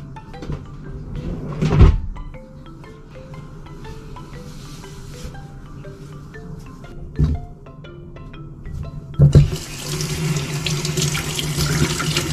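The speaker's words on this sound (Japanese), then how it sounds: "まずは顔を洗います。" A bathroom tap runs water into a sink while a face is washed, with splashing bursts, thumps of a cabinet or fixture, and a louder steady flow toward the end.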